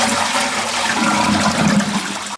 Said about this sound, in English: now we've flushed it